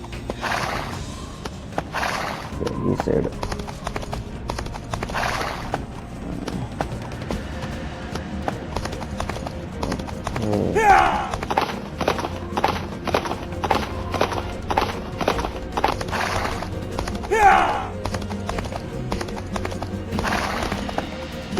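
A horse in a western gunfighter video game neighs repeatedly while hooves clip-clop in a steady trotting rhythm, with whinnies rising over the hoofbeats and brief talk in between.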